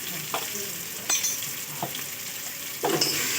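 Ground cumin and coriander fry in a pan for ghugni, a steady close sizzle broken by a few scraping stirs of a spoon.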